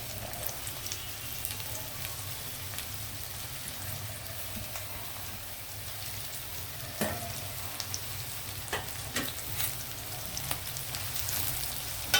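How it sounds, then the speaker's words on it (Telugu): Onions fry in hot oil for a chicken curry, a steady, fairly soft sizzle with occasional clicks of stirring. "ఆయిల్ హీట్ అయ్యాక ముందుగా మనము ఉల్లిపాయలు వేపుదామండి"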